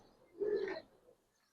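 Giribaz and coloring pigeons in a loft give one soft, throaty coo that swells and fades over under a second, close by and otherwise quiet.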